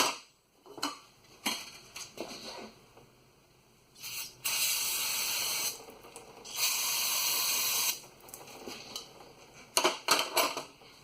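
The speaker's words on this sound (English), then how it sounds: "I'll just spray that off a little bit." Several bursts of cleaner spraying onto a 1997 Chevy 1500 NP243 transfer case part, two of them long and steady, mixed with light clinks and handling noises nearby; no talking.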